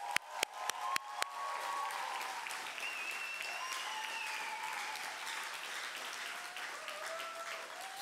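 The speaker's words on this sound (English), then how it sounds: "Please put your hands together for Mohammed Ba." Conference audience at a European media and migration event breaks into sustained applause, opening with a few sharp separate claps before settling into a dense, steady wash of clapping with faint whistles or voices mixed in.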